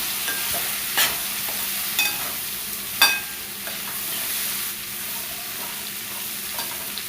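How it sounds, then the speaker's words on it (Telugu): Thinly sliced beans and carrot pieces are stir-fried in oil, a constant hissing sizzle with a few sharp scrapes and clacks as they are tossed, close and with no talk. "బిన్నీస్ క్యారెట్ ముక్కల్ని వేసేయండి వేసి ఆయిల్ బాగా ముక్కలకు పట్టేలాగా మిక్స్ చేసుకోండి"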